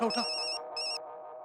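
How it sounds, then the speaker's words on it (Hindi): A mobile phone ringtone for an incoming call from Mom rings in two electronic bursts with a short gap between them, loud and close, and ends abruptly before a faint voice. "गोगी जिसका नाम ले रहा है उसका फोन आ रहा है"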